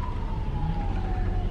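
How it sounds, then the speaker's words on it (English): An ambulance siren passes on the I-4 highway, one steady wailing tone sliding slowly downward in pitch over a constant low traffic rumble, fairly close and with no talking. "That's a second ambulance."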